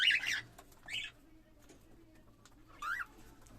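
A few short, bright calls from a caged cockatiel on a home balcony ring out close by, in three separate bursts with quiet gaps between.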